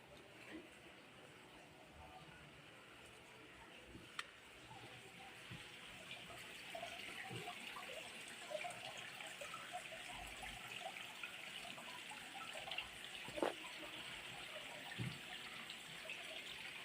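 Natural spring water trickles and gushes steadily at a grotto, a constant close wash of running water with a few faint knocks and clicks over it.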